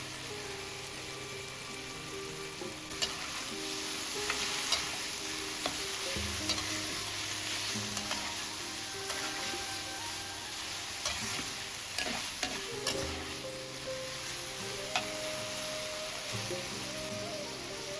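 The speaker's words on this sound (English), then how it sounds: "Add in the well-drained bitter melon." Drained bitter melon stir-fried in a wok, a steady sizzle with scraping stirs and spatula clatter throughout, close and continuous with no talk.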